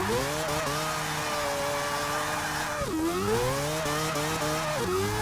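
A 2014 Nissan Juke Nismo RS in Forza 6 launches with its front tires spinning, a steady tire whine layered over a rising engine note that drops at each gear shift and climbs again, loud and close.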